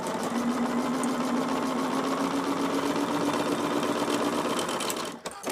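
A sewing machine with its presser foot runs along a quarter-inch seam joining quilt pieces, a loud, close, continuous whir of fast stitching that cuts off abruptly near the end.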